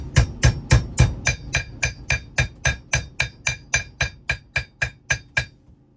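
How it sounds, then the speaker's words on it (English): A hammer taps a bearing into a drum in a steady, even rhythm, about fifteen sharp close strikes on metal, each ringing briefly and then stopping. "I use the hammer and I just keep touching the outside of it."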